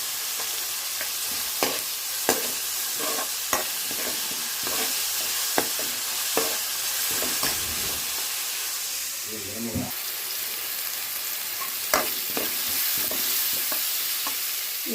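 Onions sauté in a pan for semiya with a steady, soft sizzle, broken by regular sharp taps and scrapes of a stirring spoon, while a person talks over the cooking.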